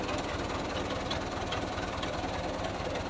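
A New Holland 640 tractor, stuck while pulling a seven-tine chisel cultivator, runs with a steady, dense diesel drone and a slight knock, loud and continuous throughout.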